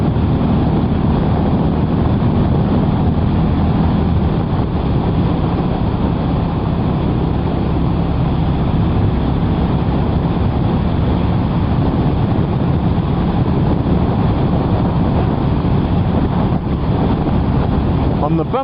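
Deep engine and airbox rumble from a Hero Hunk 440 motorcycle on the move, buried under a steady roar of wind buffeting the microphone the whole way through.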